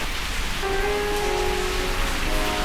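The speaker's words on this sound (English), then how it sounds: "it's not usually raining in Bangalore right now." Steady unseasonal rain falls in a Bangalore garden beneath a large avocado tree, a constant dense hiss that fills the whole stretch at an even level, with a faint tonal line drifting through the middle.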